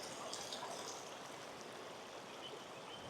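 A river near Raipada village in Koraput, Odisha, flows and gurgles over stones as a faint, steady wash of water that goes on without a break, with no voices over it.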